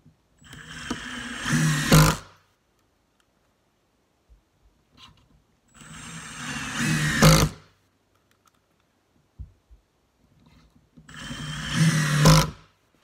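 A Milwaukee Fuel brushless power tool runs in three separate bursts of about two seconds each, a close whirring motor that ramps up and cuts off, with quiet gaps and small clicks between.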